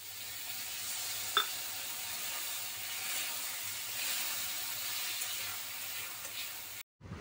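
Masala paste with onion and a splash of water sizzles steadily in a pan, a continuous close hiss with faint stirring scrapes, then cuts off abruptly at the end.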